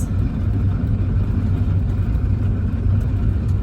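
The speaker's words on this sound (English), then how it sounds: "I think there is a branch stuck under my car" A car drives along with a branch stuck underneath, giving a loud, steady low engine and road rumble close to the microphone, with faint ticks near the end.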